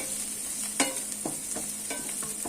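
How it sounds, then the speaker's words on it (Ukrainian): Vegetables frying half-done in a pan for a quick couscous lunch, a steady hiss of sizzling oil broken by a few sharp scraping stirs and clinks, close and moderately loud, with no talk. "Жаримо наші овочі тільки наполовину,"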